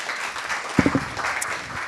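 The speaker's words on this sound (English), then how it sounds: "Another round of applause, please." Applause from a crowd fills the short moment, a continuous patter of many hands clapping at moderate volume.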